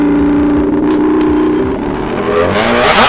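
A Kawasaki ZX10R superbike with an aftermarket Arrow exhaust idles and revs with a deep, throaty rumble that climbs in pitch toward the end, loud and close.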